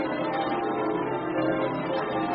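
A church bell rings in a tower in a radio drama, with sustained, dense metallic tones layered into a continuous loud clangour.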